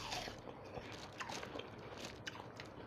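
Watermelon being bitten and chewed up close: a soft wet crunch of a bite followed by quiet, juicy chewing and squishing, faint and steady with no talking.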